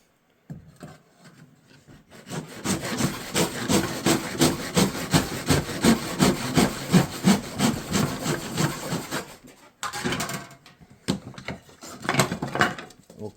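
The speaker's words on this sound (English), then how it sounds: "there's our cut with the aggressive blade" A hand saw with an aggressive blade cuts through square wood stock clamped in a miter box, giving a steady run of rasping back-and-forth strokes that stops briefly, then resumes with a few more strokes. No one talks.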